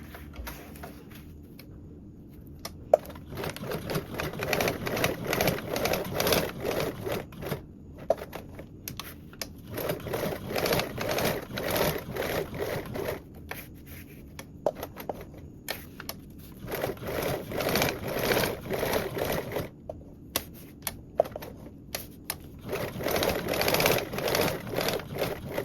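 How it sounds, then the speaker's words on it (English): A sewing machine top stitches around the edge of a duffle bag at a quarter-inch seam allowance, running in repeated bursts of close mechanical whirring separated by short pauses. "we can top stitch around with a 1/4 seam allowance all the way around"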